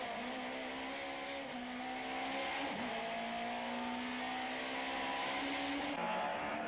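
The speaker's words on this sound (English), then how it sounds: "Briggs leads in the Opel Astra with Sean van der Linde second in the BMW" Touring cars, including an Opel Astra and a BMW, racing at Zwartkops circuit in the 1994 South African Touring Car Championship, a steady sustained engine drone with shifting pitch as cars pass, fairly distant, no talk.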